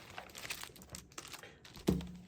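A backlit large-print keyboard is taken out of its box, with soft crinkling and rustling of packaging, light taps and a sharp thunk near the end as it is set down.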